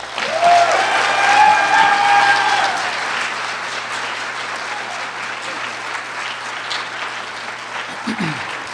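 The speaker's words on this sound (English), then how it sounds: "please join me in giving a round of applause and a big center welcome to this speaker" Audience applause at a Martin Luther King Jr. convocation welcoming a speaker to the stage, a dense sustained roar of clapping from a large crowd, loudest in the first few seconds and tapering slightly.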